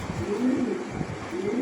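Pigeons of an American fancy breed on a farm coo in repeated rolling, low-pitched phrases, steady and fairly close throughout.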